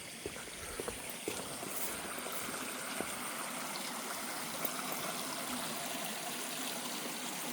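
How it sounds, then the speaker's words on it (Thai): Steady rain falls with a soft, continuous hiss and scattered drips, like water trickling and pattering nearby. "ฝนตกพี่น้อง"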